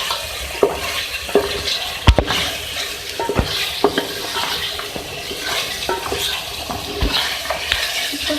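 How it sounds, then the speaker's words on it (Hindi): Beef and yogurt sauté in a pan for a beef turai gosht curry, a constant sizzle punctuated by sharp, irregular clanks and scrapes of a spoon against the metal. "ये देखिए दही डाल के मैं इसकी भुनाई कर रही हूँ"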